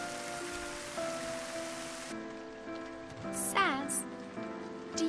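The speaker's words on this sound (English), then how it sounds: "and then it rains some more." Steady rain pours over the Sunleth Waterscape in Final Fantasy XIII, a continuous hiss with music tones and brief chirping bird-like calls over it.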